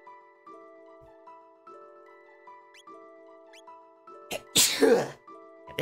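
A single sharp sneeze bursts out near the end, loud and close, over quiet chiming video game music from Chrono Trigger.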